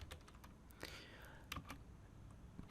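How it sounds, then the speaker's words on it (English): Quick keystrokes on a computer keyboard while entering Python code, a few distinct clicks and taps scattered over a quiet room background, close and moderately soft. "you need to type there create, thereafter hit the tab key in your keyboard"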